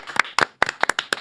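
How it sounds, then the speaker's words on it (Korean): Scattered hand claps from a small talk-show studio audience greeting a National Assembly member as he joins, a few separate bursts of close, sharp claps rather than a full ovation. "한창민 의원님 박수로 맞이합니다"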